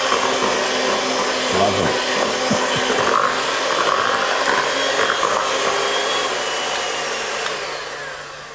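An electric hand mixer whirs steadily through brownie batter, a loud continuous motor drone that fades slightly near the end, with a brief spoken word over it.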